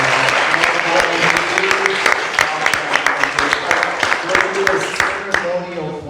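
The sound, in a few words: audience round of applause at political forum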